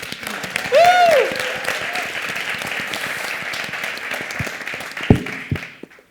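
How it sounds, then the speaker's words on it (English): Applause from a crowd fills the space steadily, dense clapping that fades toward the end, with a brief squeal of audio feedback early on. "Can we please all give the whole group a round of applause?"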